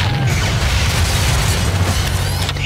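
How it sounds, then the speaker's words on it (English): Missiles fire in the Mortal Kombat Gold video game, a dense run of booming blasts and clanking mechanical sounds that stays loud and continuous, with no one talking. "Oh, and he starts shooting missiles."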